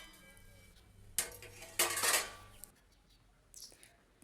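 Dishes, pots and pans being stacked away at home after washing up, giving a few brief clattering, clinking bursts close by with quieter gaps between them.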